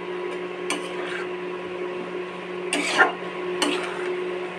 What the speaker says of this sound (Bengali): আর ভালো করে মিক্স করে নিই।